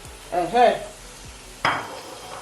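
Onions dropped into hot oil for a tomato stew give a brief sizzle with stirring and pan clatter, two short bursts over a quiet background.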